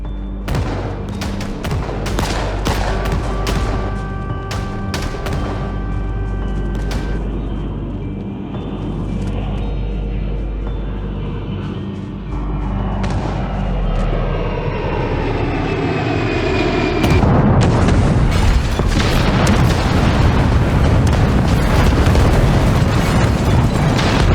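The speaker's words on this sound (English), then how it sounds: "the bombs started to fall from the sky" Bombs falling and exploding in the Project Zomboid video game trailer, with a roar like low aircraft engines and a string of heavy booms. The blasts build up and hit loudest near the end, with no voices.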